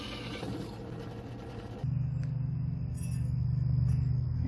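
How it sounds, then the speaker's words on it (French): A drill bores a quarter-inch rivet hole in forged scroll tongs, starting abruptly partway through and then running as a steady, loud mechanical whine close by, with no talking. "Je vais percer d'une grosseur de 1/4 de pouce parce que notre rivet est 1/4 de pouce."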